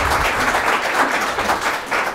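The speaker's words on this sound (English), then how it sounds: "I'd like all of us just give them a round of applause for coming today to be part of this" Steady audience applause at a live-streamed community gathering, a dense continuous patter of many hands clapping, fairly close and full throughout with no talk.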